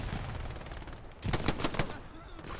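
Machine gun fire in a WWII shooter set at Elsenborn Ridge during the Battle of the Bulge: a rapid, loud burst of shots rattles for under a second over steady battlefield ambience.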